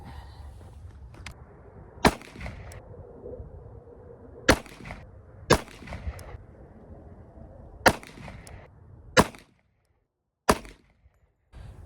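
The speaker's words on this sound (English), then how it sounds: "We'll shoot a 3-shot group of each types of ammo" An EAA Witness .45 ACP pistol fires in three-shot groups at an outdoor range: six sharp, loud reports spaced irregularly over about ten seconds, with low background noise between them.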